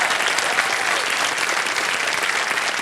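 Steady, dense applause from a television game show studio audience, loud and close, filling the whole moment without a break.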